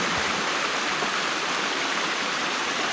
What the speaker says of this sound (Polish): Tu jest woda.